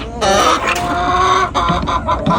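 Backyard chickens cluck and squawk loudly and close by during egg collection, a dense burst of overlapping calls lasting a couple of seconds.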